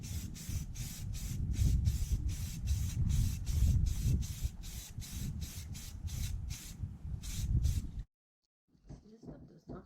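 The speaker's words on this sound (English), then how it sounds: "Put a good coat of primer on him." An aerosol can of primer sprays a coat onto a garden yard statue, a close, continuous hiss broken by rapid short pulses for about eight seconds, then stops, followed by faint handling sounds.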